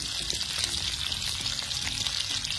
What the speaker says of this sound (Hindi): आवाज़ सुनाऊंगा, आप कहेंगे भाई वाह इतना अच्छे से बढ़िया से ये हरी मिर्ची साउंड भी करती हैं